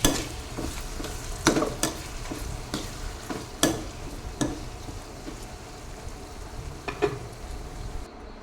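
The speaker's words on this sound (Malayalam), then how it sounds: "ഇനി നമുക്കതിലേക്ക് ഇഞ്ചി വെളുത്തുള്ളി ചതച്ചതും കൂടെ ചേർത്ത് കൊടുക്കാം" Crushed ginger and garlic sautéing in a pan for a beef curry, a continuous sizzle broken by repeated scraping stirs and spoon clinks at irregular intervals.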